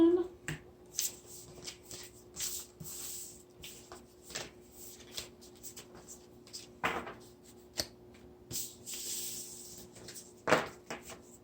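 Tarot deck being shuffled by hand, a series of sharp card snaps and riffling bursts at irregular intervals over a low background hum, close and fairly quiet.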